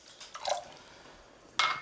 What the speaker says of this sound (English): So I'm going to put a tablespoon of water